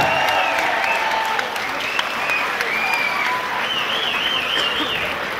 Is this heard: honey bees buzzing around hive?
no